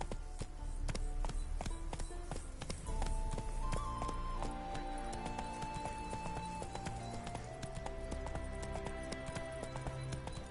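Roach the horse gallops across terrain in The Witcher 3: Hearts of Stone, steady rhythmic hoofbeats clopping close and continuous over game ambience.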